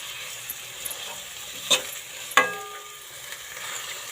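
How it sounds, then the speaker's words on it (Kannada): Tomatoes fry with onion in a pan for a chickpea palya. A soft, low sizzle runs under a couple of sharp utensil clinks and stirring scrapes, with no talking. "ಸಾಫ್ಟ್ ಆಗೋವರೆಗೂ ಸ್ವಲ್ಪ ಫ್ರೈ ಮಾಡ್ಕೋಬೇಕು."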